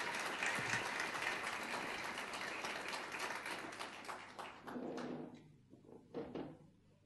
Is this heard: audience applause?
yes